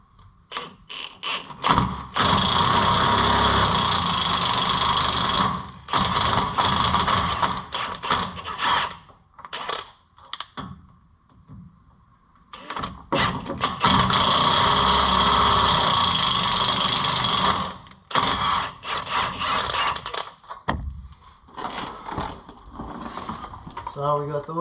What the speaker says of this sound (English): we're gonna run tap bolts up into these 2 holes